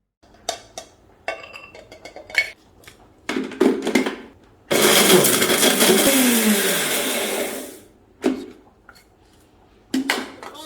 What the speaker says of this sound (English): So now let's blend our crayfish.